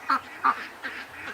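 Lake ducks quack three or four times at a moderate pace, the first two calls sharper and louder, the rest softer, with no speech.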